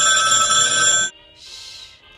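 An old-fashioned telephone bell rings loudly and steadily for about a second, then cuts off, leaving a faint hiss and a soft high swish after it in a quiet room.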